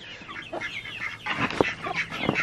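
Chickens in a winter chicken coop clucking close by, a busy run of overlapping clucks and short squawks, fairly loud with no talking.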